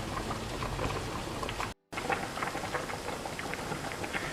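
Pasta noodles boil on high heat in a pot, giving a continuous bubbling hiss with scattered pops, broken by a very brief dropout, with no talking.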